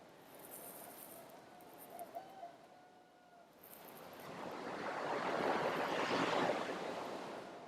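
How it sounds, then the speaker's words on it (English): Ocean waves wash in and swell louder toward the end, with faint rooster and bird calls and a soft tonal call early on. "if you can hear the waves and the roosters in the background"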